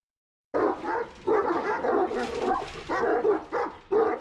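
Several Turkish shepherd dogs, Kangal and Malaklı, barking in bursts after a moment of silence, deep woofs mixed with yips and whimpers, close and loud.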